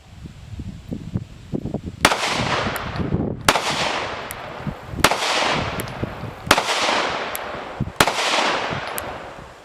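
Five sharp, loud pistol shots from a Springfield Armory RDP compact pistol with a compensator, fired at a steady pace about one and a half seconds apart, each with a ringing outdoor decay, after a stretch of faint handling and rustling.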